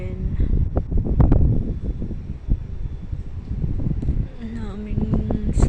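Gusty wind buffets the microphone in an outdoor garden area at night, a rough low rumble that rises and falls throughout while a person speaks in Tagalog over it.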